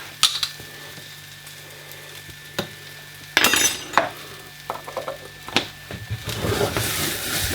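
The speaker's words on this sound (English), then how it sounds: "Mix it all around a bit." Curry powder is stirred into browned onions in a pan, with scraping and clinks of a utensil against the metal pan over a faint sizzle, in short irregular bursts up close.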